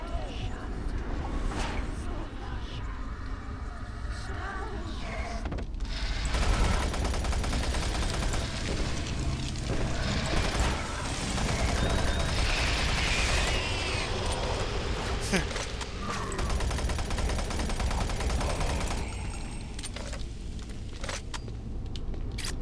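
Bursts of rapid gunfire from the video game Doom 3 BFG Edition crackle and rattle through most of the stretch, mixed with game effects and someone talking over it.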